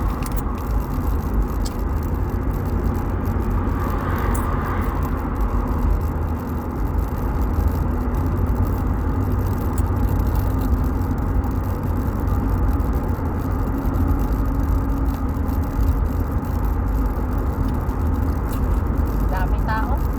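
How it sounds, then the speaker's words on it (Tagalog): Steady dense roar of passing cars in busy street traffic, loud and continuous with a low engine rumble and tire noise throughout. "Ay, dami mga sasakyan."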